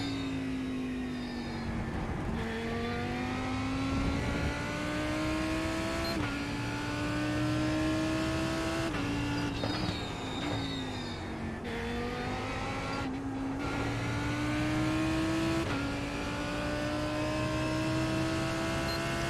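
A NASCAR race car at Nashville lapping a track with blind corners, its engine revving hard in repeated rising pitch sweeps broken by brief drops at each gear shift, loud, close and continuous from an onboard position.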